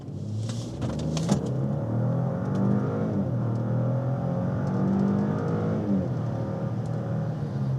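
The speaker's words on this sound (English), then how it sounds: "So just put it in dynamic mode here, which is like the sport mode, and accelerate." A 2025 Audi Q7 55 TFSI quattro accelerates in dynamic mode, heard from inside the cabin as a steady, rising engine drone with harmonic whine and road rumble, fairly loud and continuous, with no talking.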